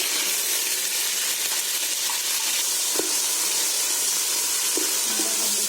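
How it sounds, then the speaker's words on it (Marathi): Onion with garlic and green chilies frying in oil in a pan for a Konkani chicken dish, a steady broadband sizzle and hiss running continuously with a few small pops, no talking. "आता हा कांदा आहे ना लाल होईपर्यंत चांगला फ्राय करून घ्यायचा"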